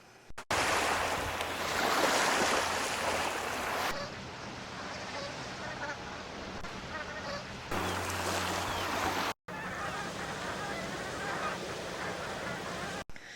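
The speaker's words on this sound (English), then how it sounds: "Brant." Brant geese honk in repeated calls over steady waves and surf, the rough coastal wash loud and continuous throughout, with brief cuts between stretches.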